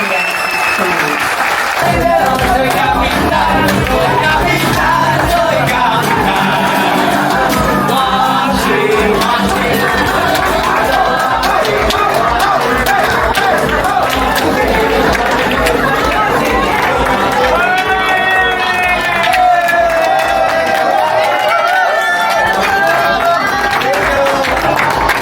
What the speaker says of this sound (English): give every single person a lovely round of applause for your vacation